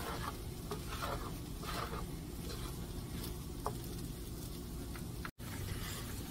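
Green chorizo and potatoes cooking in a pan give a low, steady sizzle with faint stirring scrapes and a brief tap, close by and without talk.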